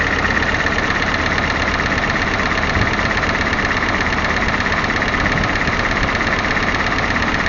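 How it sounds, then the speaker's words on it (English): A 1951 Willys CJ3A engine idles near 1,000 RPM after a cylinder head refit, a close, loud, steady rumble with an even, fast pulsing throb. "I'll see if I can adjust this RPM a little bit to get it a little sweeter."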